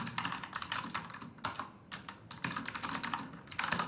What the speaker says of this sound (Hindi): अब हम थोड़ा सा कीबोर्ड की की प्रेसेस वगैरह को देख लेते हैं